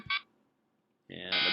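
A short electronic blip, then after a pause a loud, harsh alarm horn blares and holds, abrupt and close.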